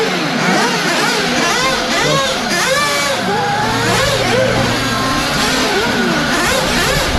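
A Kyosho nitro RC car with a Reds engine at an HNMC 2018 race meeting buzzes and revs continuously, its high whining note rising and falling as it races nearby.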